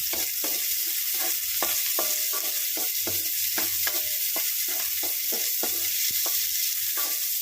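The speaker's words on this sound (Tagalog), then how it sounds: "Medyo lutuin po muna natin ng konti yung ating sibuyas" Onions sautéing in a pan with steady loud sizzling and regular rhythmic stirring scrapes of a spoon, continuous and close.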